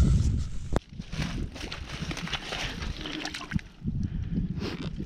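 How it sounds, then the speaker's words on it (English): A coin swished and rinsed in running creek water makes a continuous close slosh and gurgle over a broad rushing wash of the stream, with a brief knock near the start. "Let's go clean it up in the creek."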